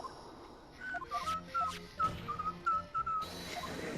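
Someone whistles a short tune in bright, clear, separate notes with small pauses between phrases. The whistling is fairly faint against a quiet room.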